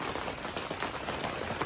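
Rain falling during a Diwali evening, a dense steady patter of drops striking surfaces, close and continuous with scattered sharper drips.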